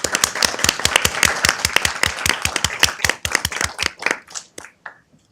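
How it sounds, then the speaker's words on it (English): An audience at a city council meeting applauds nurses, a close round of brisk clapping that thins out and fades over several seconds. "Can we please give our nurses a round of applause?"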